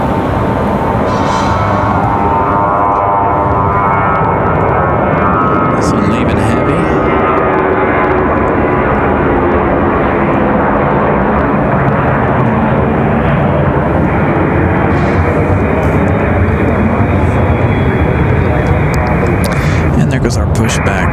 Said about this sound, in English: As we watch our A321 get a move on back to Charlotte.